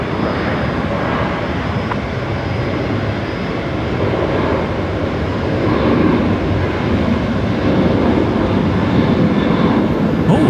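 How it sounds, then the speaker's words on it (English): A Velocity Boeing 737, flight 962 to Sydney, takes off at night from Brisbane Airport on an intersection departure, its continuous loud jet roar swelling slightly toward the end with no voices over it. "We got the Velocity 73 heading off now."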